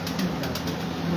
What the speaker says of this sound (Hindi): ये एक और कबूतर आ रहा है